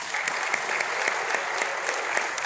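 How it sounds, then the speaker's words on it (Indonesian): An audience at a holistic health talk breaks into steady applause, a dense wash of many hands clapping at an even level throughout, with no voices over it. "Dan yang berani tepuk tangannya."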